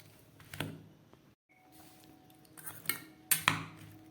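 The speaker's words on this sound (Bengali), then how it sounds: "এবার আমি একটা চামচ দিয়ে এই মশলাগুলোকে খুব ভালো করে এর সঙ্গে মেখে নেব।" A spoon clinks and scrapes against a bowl while mixing spices into okra, a few scattered taps with sharper knocks near the end, close and without talk.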